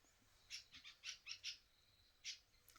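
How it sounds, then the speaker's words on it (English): Small birds chirp faintly in the background, a scattering of short, high tweets in loose clusters over a quiet, hissy outdoor backdrop, with no voices. "I love all the birds chirping in the background."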